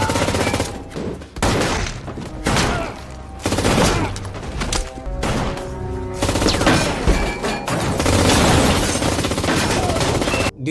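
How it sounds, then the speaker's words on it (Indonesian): Intense action-film battle gunfire, dense bursts of automatic weapons and heavy shots layered with booms and a dramatic music score, loud and nearly continuous throughout. "Di tengah baku tembak"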